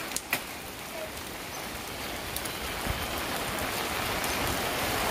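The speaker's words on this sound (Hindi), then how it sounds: "चलो बेटा पूरा भीग गए अन्नब।" Steady rain pours down outdoors, a dense even hiss with a few sharp close drips and taps standing out near the start.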